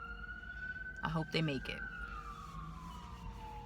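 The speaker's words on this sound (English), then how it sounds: "just an ambulance going by" An ambulance siren wails steadily and passes at a moderate distance, its pitch slowly sliding downward as it moves away, while a person speaks briefly over it.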